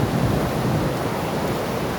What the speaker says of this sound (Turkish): Biraz yağmur girdi arkadaşlar